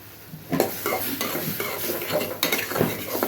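Prawns stir-fried in a pan for a home-style Bengali curry, a steady sizzle with repeated scraping and clinking of a spatula against the pan, close and fairly loud, with no talking.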